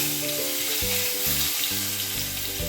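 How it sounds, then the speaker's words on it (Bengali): Black cumin seeds sizzle and crackle in hot oil as a tempering for Bengali pabda fish tel jhal. A steady, fairly loud frying hiss runs throughout beneath steady tonal background music, with no talking. "এই কালো জিরেটা ফোড়ন দিয়ে দিচ্ছি"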